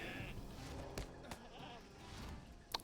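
A goat bleats in the Lord of the Rings Online video game, one faint wavering cry early on, followed by soft game thuds and a sharp click near the end.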